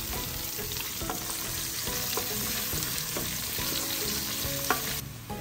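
Onion sautéing in a frying pan for a Filipino tomato soup, a steady close sizzle with scattered stirring scrapes and clinks running throughout, no talk.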